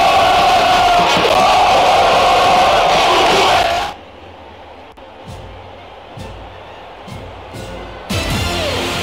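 A loud stadium crowd roars and cheers in the PS2 football game Winning Eleven 10, during a São Caetano versus Brasiliense match. The dense roar holds for about four seconds, then cuts to a much quieter background with a few faint blips.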